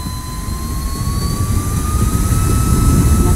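An Amayatech A60 turbo handheld mini fan runs at high speed with a steady, close jet-like whoosh and a thin whine that rises slowly in pitch. It stays constant throughout with no voices.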